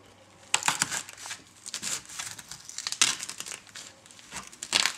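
A sharp knife slices through a raw artichoke on a cutting board, making a series of crisp crunching, crackling cuts in uneven bursts, close and clear with no talking.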